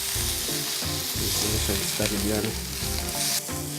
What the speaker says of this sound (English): Don't forget to sear the sides.